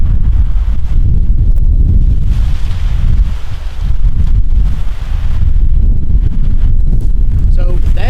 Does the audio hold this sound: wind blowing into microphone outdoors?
yes